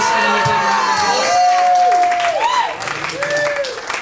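Live concert audience applauding and cheering for a performer, a brief burst of crowd noise with whoops and shouts over the clapping.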